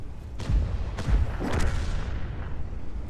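Heavy tank cannon shot from a DBV-152 in a video game, a booming blast with rumbling explosions layered over steady engine and battle noise, loud and close.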